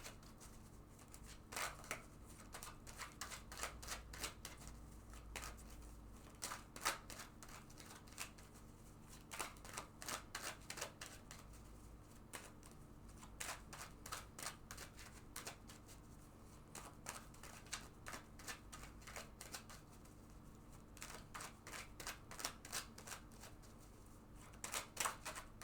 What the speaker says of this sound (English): let's first of all go ahead and shuffle this deck several times